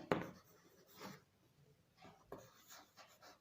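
A pen writing an equation on paper, several short scratchy strokes in separate bursts, close and quiet, with no talk.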